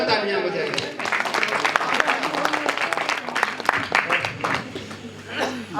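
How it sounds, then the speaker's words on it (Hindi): A crowd at a village fair poetry gathering applauds a poet with loud, uneven clapping. Voices and a little laughter run through it, and the clapping rises and falls for several seconds. "जोरदार तालियां बजाइए"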